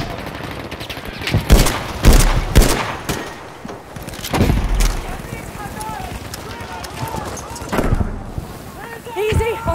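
Gunfire and bolt-action Enfield sniper shots in the multiplayer shooter Battlefield V: several sharp, loud bangs in bursts amid a chaotic battlefield din, with voices talking over the combat.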